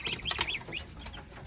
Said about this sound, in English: That other noise you hear is my quail